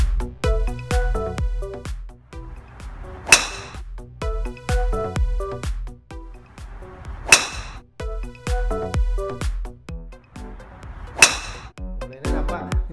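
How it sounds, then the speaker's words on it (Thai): A golf driver swung in practice gives three sharp whooshes at regular intervals, each a brief loud burst over a repeating backing track with no voices. "เราก็พยายามทำเสียงให้มัน ดังขึ้นเรื่อยๆนะครับก็จากแนวสวิงที่เท่าเดิมนะครับ"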